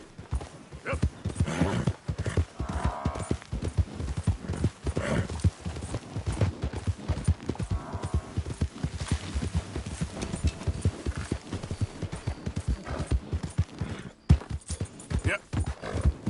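A horse gallops in Red Dead Redemption 2, its hooves drumming in a fast, steady clip-clop close by for the whole stretch. A voice breaks in now and then to urge the horse on.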